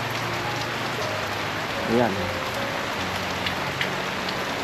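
Steady wind-driven rain pours down in a dense, continuous hiss, with a brief spoken word partway through over the downpour.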